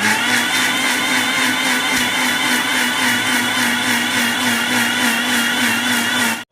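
A mixer grinds mango with water into a paste for mango halwa, with a loud steady whirring motor hum that runs without a break and cuts off sharply at the end.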